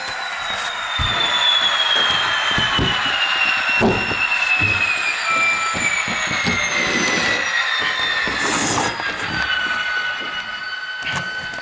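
Model train G512 in V-line livery running on a layout, a loud close rumble of rolling wheels with rhythmic clicks over track joints and high squealing tones sliding in pitch, continuous and with no voices.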